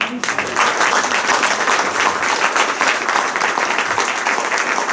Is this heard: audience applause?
yes